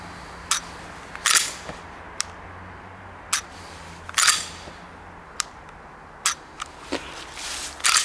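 Sig P320 Compact pistol with factory trigger upgrade being dry-pressed and reset, producing crisp isolated clicks at close range, some single and some in quick pairs, against a quiet background.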